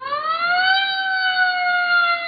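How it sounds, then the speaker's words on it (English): An ambulance siren wails loudly and steadily in a smooth rising then sustained tone, close and alone with no other sounds. "The ambulance drives up to the school, its siren flashing"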